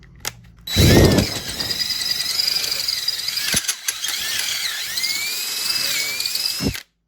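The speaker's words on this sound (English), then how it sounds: "It's amazing what a little bit of oil will do for a drill." An oiled drill grinds steadily into a car's stripped subframe seat thread hole with a whining, squealing bite, close and loud, running for several seconds before stopping abruptly.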